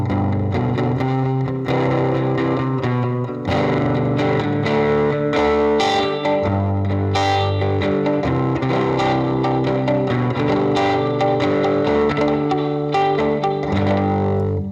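Electric guitar played through a Hehku Tramp 5 amplifier with a Jensen speaker, chords and riffs with a slightly driven tone and added room reverb, loud and continuous with no talking.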